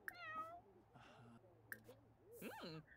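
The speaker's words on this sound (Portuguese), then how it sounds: "Meu Deus, por que esse gato tá aqui?" A house cat meows several times, short rising and falling cries close by, with a voice speaking between the calls.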